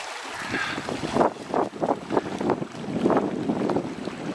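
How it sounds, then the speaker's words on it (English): Strong gusty wind on a Boundary Waters lake roars across the microphone in rolling surges, with water slapping and washing close by, no voices. "A ridiculous wind today."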